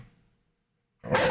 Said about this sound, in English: Even though she hurts our ears with the barking.